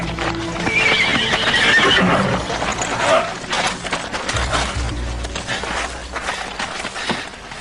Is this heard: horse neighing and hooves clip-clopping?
yes